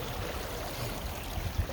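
High water rushing through an irrigation ditch in the high desert, a steady broad watery roar with no pauses, close and moderately loud.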